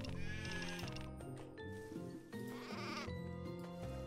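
Sheep in the video game Craft the World give wavering bleats over continuous melodic game music, the calls fairly loud and repeated across a few seconds.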